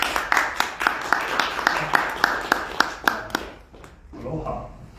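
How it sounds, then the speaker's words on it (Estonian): At a book presentation in a Tartu shopping-centre event space, a small audience claps in a sharp, fairly sparse rhythm for about three and a half seconds, then the applause fades and a voice starts speaking. "Suur aplaus!"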